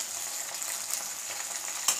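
Food frying in hot oil for a mint chutney, a steady soft sizzle throughout with a brief louder crackle near the end.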